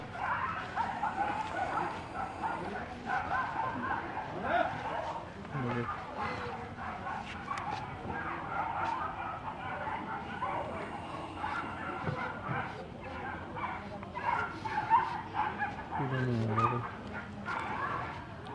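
Dogs fight outdoors, with scattered barks, sharp yips and whimpers rising and falling over nearly twenty seconds at moderate distance, while people talk throughout.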